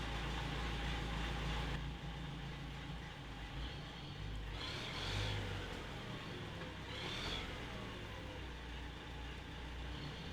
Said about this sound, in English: So I think it's time for a test ride here.